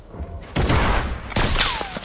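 Rapid bursts of gunfire in the Fortnite battle royale video game, two loud volleys crackling close in quick succession, with a rising whistling tone sweeping through the second burst.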